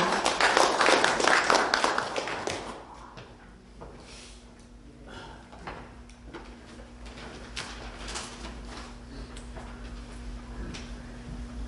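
Guests at a book launch ceremony applaud as a speaker is invited forward. A dense round of clapping for about two seconds gives way to a quieter room with scattered knocks and shuffling.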